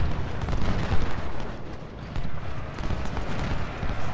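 Sustained cannon and artillery fire on a Civil War battlefield in Ultimate General: Civil War, a dense rumbling barrage with low booms rolling steadily throughout, no clear speech.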